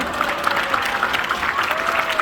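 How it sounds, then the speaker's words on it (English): A small group at a magic show claps steadily for a couple of seconds, a brisk patter of applause fairly close, with a little crowd murmur beneath. "Give her a big round of applause."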